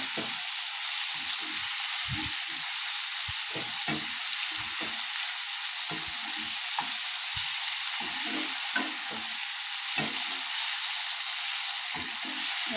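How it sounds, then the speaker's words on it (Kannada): Mushroom masala frying in a pan, with steady sizzling throughout and intermittent scraping stir strokes close by, no voices. "ಒಂದು 5 ನಿಮಿಷ ಚೆನ್ನಾಗಿ ಫ್ರೈ ಮಾಡ್ಕೊಳ್ಳಿ"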